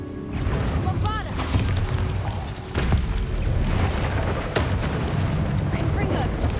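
Spell combat in the video game Hogwarts Legacy: loud booming blasts and crashing impacts follow one another with little pause, over a dense layer of game effects. A voice speaks over parts of it.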